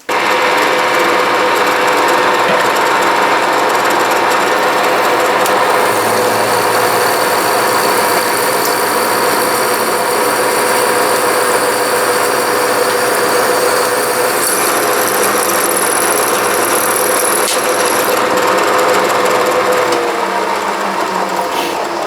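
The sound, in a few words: drill running with a split point drill bit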